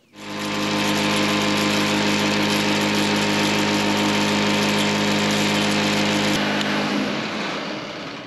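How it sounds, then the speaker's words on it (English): A portable sawmill runs steadily at full power with a rattling blade guide, a loud continuous mechanical roar with metallic rattle, then winds down and stops near the end. "I had to shut down for just a minute and do another adjustment on the sawmill. You saw that rattling right there."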